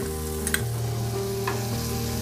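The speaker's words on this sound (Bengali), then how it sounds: "চারি সাইডের দুটো পেঁয়াজ দেখুন একটু বড় বড় কুচি করে রেখেছি, এইভাবে আমি তেলের মধ্যে দিয়ে দিলাম" Large chunks of chopped onion, two of them, hit hot oil after dried chillies and fry with a steady, close sizzle and crackle, with brief stirring clatter near the start.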